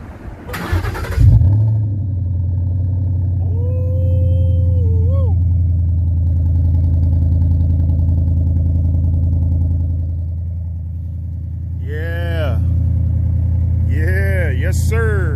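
Ford Mustang GT engine starting up with a loud crank and catch, then settling into a deep, steady idle rumble, followed by several sharp revs that climb and fall near the end.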